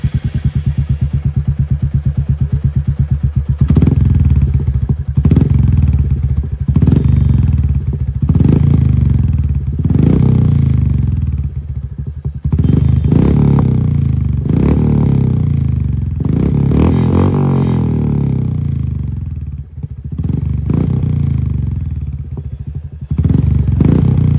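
A motorcycle fitted with a Gursewak aftermarket exhaust runs close and loud, with a deep, throbbing exhaust note rising and falling through repeated throttle blips. No one speaks.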